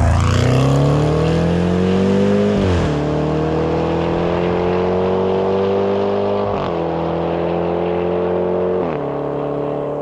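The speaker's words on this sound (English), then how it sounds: "the Jaguar is for someone that definitely wants that V8 noise" A Jaguar F-PACE SVR's V8 engine drones loudly and steadily while driving, its pitch rising and dipping through several gear changes without any talk.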